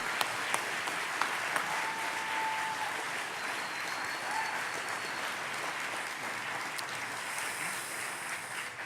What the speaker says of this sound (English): Please join me in a rousing round of applause for our Deputies of the Month.